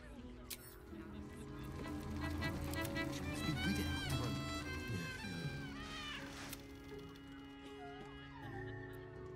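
A cat meows in Baldur's Gate 3, its drawn-out, wavering cries standing out near and clear over a layer of game sounds.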